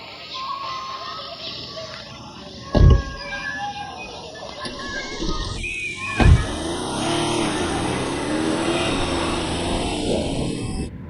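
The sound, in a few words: car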